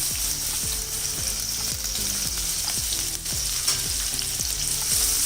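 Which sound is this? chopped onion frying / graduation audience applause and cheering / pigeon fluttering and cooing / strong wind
chopped onion frying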